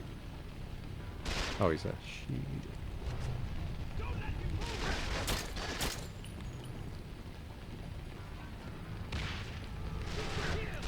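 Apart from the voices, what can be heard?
grenade explosions in the video game Quantum of Solace (PS2)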